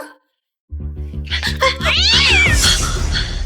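A cat meows loudly and close by, with a rising, drawn-out caterwauling cry that follows a brief silence.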